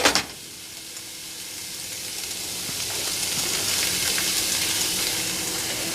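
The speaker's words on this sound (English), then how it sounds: "We're going to throw all of our vegetables in here." Vegetables tossed into a hot pan for a chicken thigh meal prep: a sharp clatter as they land, then a building, steady sizzle that holds close and fairly loud.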